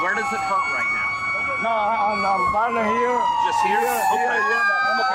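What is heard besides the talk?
fire truck siren wailing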